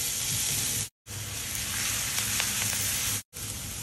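Finely chopped ginger and garlic sizzle in hot oil, a steady close frying hiss with faint stirring clicks, briefly cut by two short gaps.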